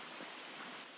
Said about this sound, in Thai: แล้วนี้ก็เป็นที่ที่มีแต่น้ำตก